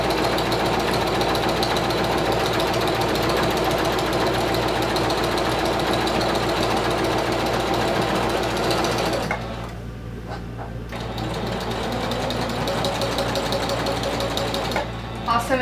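A domestic sewing machine fitted with a walking foot stitches through vinyl, a steady rapid mechanical chatter running continuously, briefly easing off before resuming, with a voice talking over it.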